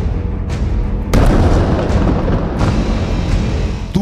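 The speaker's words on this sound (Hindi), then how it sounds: "पहला धमाका" A blast from a missile strike rumbles as a loud, continuous low boom, with a sharper burst about a second in and another surge later, sustained throughout.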